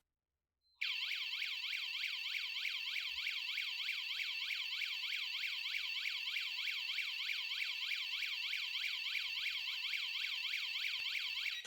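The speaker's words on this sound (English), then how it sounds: "make sure the wireless siren goes off" An OSI Gen 2 wireless alarm siren blares loud and continuous, a rapid warbling whoop that starts abruptly after a moment of silence and keeps going without pause.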